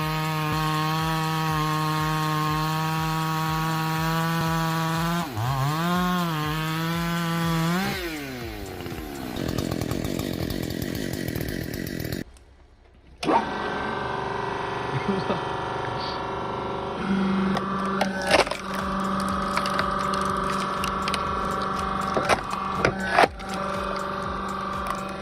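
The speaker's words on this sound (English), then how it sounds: "That's what it looks like when you don't force a chainsaw through the wood and let the chain do the work." A chainsaw cutting through wood during tree felling and logging, its engine holding steady before dipping in pitch as it bites, then running on with rising and falling revs and a brief cut-out in the middle.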